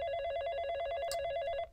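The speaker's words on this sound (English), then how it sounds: "Just then, the kitchen phone rang." A kitchen phone rings as a story sound effect, a loud, close electronic trill that repeats rapidly and continuously before cutting off.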